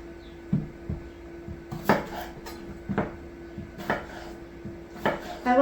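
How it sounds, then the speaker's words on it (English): Knife cutting Yukon Gold potatoes into wedges on a board, a series of distinct chopping thuds and clacks at irregular intervals, close and moderately loud, with a steady faint hum in the background. "We're just going to cut these into wedges, and we're going to plop them right into our buttermilk"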